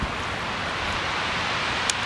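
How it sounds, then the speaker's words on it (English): Wind blows outdoors, a steady broadband rush and rumble buffeting the microphone, close and constant, with no speech. "Windy day too."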